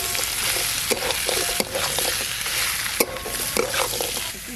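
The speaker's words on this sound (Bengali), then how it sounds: "এবার ভেজে রাখা কাঁকড়াগুলো দিয়ে দেবো।" Small crabs sizzle and hiss loudly as they are fried and stirred in a spicy curry paste, with steady frying noise broken by a few scraping stirs of the pan.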